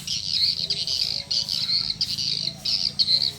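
Swiftlets near a swiftlet house twitter in quick high chirping bursts, broken by short gaps, fairly close and steady over a low background hum.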